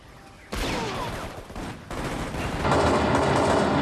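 Video game gunfire effects for Shadow Ops: Red Mercury, rapid bursts of sharp shots with reverb tails that make a roomy space, growing denser and louder toward the end; no voices.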